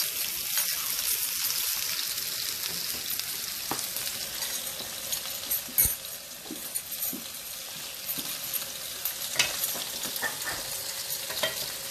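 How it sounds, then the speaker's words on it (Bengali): Two onions frying in a pan for a Bengali-style cauliflower dish, a low steady sizzle with scattered spatula scrapes and clinks throughout, close and fairly quiet, with no voices. "সব পেঁয়াজ দিচ্ছি। এখানে আমি দুইটা পেঁয়াজ নিয়েছি"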